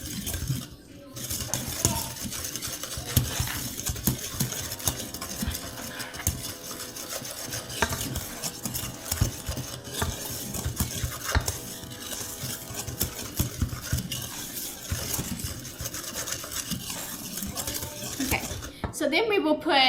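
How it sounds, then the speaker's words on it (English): Dry pantry-mix ingredients with salt are stirred and rubbed together in a bowl, a continuous gritty scraping and rasping with irregular bursts, close by, while a person talks over it at times. "mix all of this together. So we will just mix it really good"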